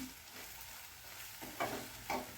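Quiet scraping and light sizzling as spices are stirred in a hot pan for a Chettinad brinjal curry, with two brief louder scrapes near the end.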